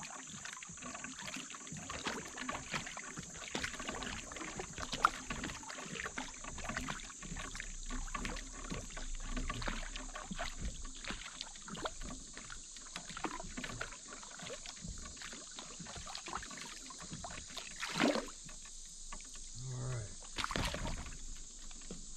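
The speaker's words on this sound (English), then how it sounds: "I'm gonna have to row out of this" Oars dip and creak softly as a small fishing boat is rowed on a calm backwater lake, with gentle splashes and drips against a quiet outdoor background.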